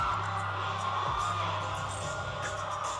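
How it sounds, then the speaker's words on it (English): A large concert crowd at a performance cheers and screams continuously, a dense roar of voices over a low, humming musical intro. "Listen to this crowd."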